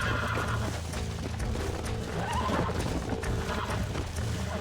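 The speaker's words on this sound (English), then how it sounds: "you trying to break your own horse there?" Horse in the video game Red Dead Redemption whinnying and neighing while being broken in, with clip-clop hoofbeats, rustling and heavy game ambience throughout, close and fairly loud.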